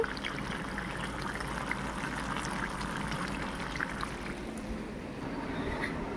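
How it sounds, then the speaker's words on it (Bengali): A covered pot of meat curry full of rising liquid bubbles and simmers steadily, a continuous soft watery burble with no one speaking. "এখানে আমার মাংস রান্না হচ্ছে"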